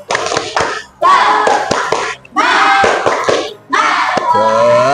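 During an Islamic religious education lesson, a group does a rhythmic spirit clap, sharp patterned hand claps in several bursts mixed with loud chanting voices.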